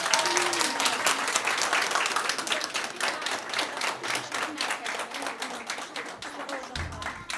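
Audience applause at a kindergarten graduation ceremony, a dense, steady clapping from a crowd that continues at an even level throughout, loud and close.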